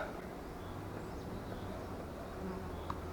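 A steady, dense insect buzz fills the clip, like many bees humming around a hive, close and continuous with no talking.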